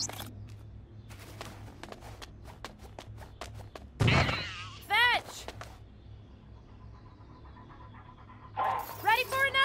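A companion dog in the action video game Sunset Overdrive barks and yips in short bursts amid game sound effects and thumps, while a person talks over the gameplay.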